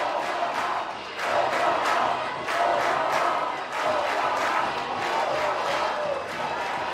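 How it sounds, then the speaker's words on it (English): Crowd noise at a college baseball game after a Troy win sends the team to the College World Series in Omaha, with rhythmic chanting swells from a large crowd throughout, loud and continuous. "Crowd chanting Omaha."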